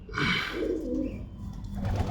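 A pigeon kept for sale coos close by, one soft throaty burst swelling and fading, then quieter rumbling coos trailing off alone with no voices.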